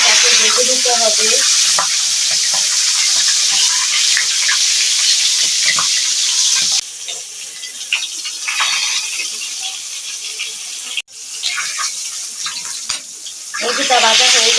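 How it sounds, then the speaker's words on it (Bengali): Chicken pieces fry in a pan at home with a loud, steady sizzle, broken by stirring and turning clatter, a brief drop in the sizzle midway and a sharp knock near the end. "মুরগিটাকে ভেজে নিতে হবে"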